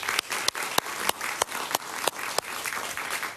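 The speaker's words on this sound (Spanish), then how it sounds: "Un aplauso para él, por favor." Studio audience applause on a television talk show, steady dense clapping with a few sharper claps standing out, moderately loud throughout.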